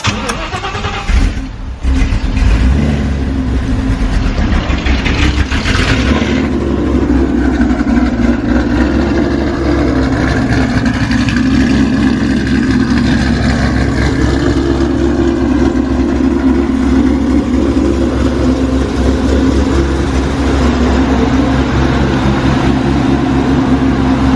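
Ford GT500 V8 idling through a Ford Racing axle-back exhaust, a loud, steady low rumble that runs continuously after a brief blip or start near the beginning, with no talking.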